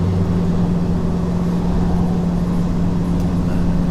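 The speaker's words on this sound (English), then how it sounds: "I don't know what kind of industrial truck that is two ahead of me, but it sounds like they're just winding out first gear" An industrial truck revving hard in first gear nearby, a loud, steady engine drone with a sustained low hum, continuous throughout.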